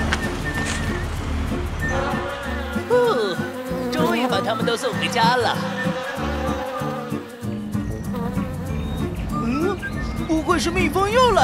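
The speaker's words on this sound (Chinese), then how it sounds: "是蜜蜂又来了吧？" Cartoon bees buzz steadily and close in a vehicle chase cartoon, a continuous droning hum layered under lively sung or voiced animated sounds throughout.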